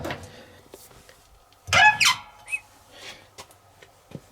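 A Servis (Eudora) 386 compact 3kg washing machine door is pushed open, giving a short squeaky creak with a couple of quick bursts of latch and hinge noise, fairly close in a quiet room with no talk.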